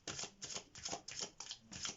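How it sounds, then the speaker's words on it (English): Tarot cards are riffled and shuffled in a quick, repeating rhythm, six or so soft papery bursts close to the mic and fairly quiet, with no talking. "While we're shuffling the cards today"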